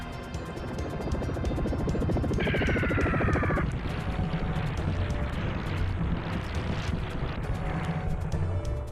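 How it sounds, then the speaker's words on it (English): Explosions in a SNES video game, a dense rumbling burst of blasts mixed with a short tonal sound effect, followed by a continuing crackling, rumbling game soundscape. "A lot of explosions going on here."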